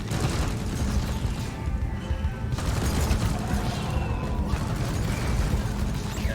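The breach cutter weapon firing in the video game Deep Rock Galactic, a loud, dense mechanical roar with bursts and booms that runs continuously close up and never lets up.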